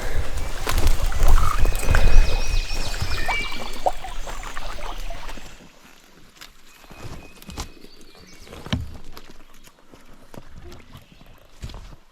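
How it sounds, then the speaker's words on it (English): Splashing, sloshing water from wading across a flowing creek that blocks access to wooded ridges, loud and close for the first five seconds, then quieter with scattered steps and splashes. "This is the creek that is blocking main access from these ridges."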